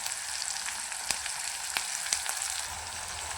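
Curry leaves and tomato frying in hot oil give a steady, faint sizzle, close by, with a few brief louder crackles and no voices.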